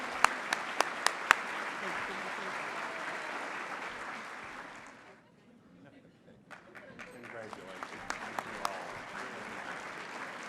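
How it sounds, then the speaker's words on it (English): Applause for inspirational teachers at a community college honors event, scattered claps and crowd noise that fade to near quiet midway, then build back up with sharper individual claps toward the end. "giving these inspirational teachers a big round of applause"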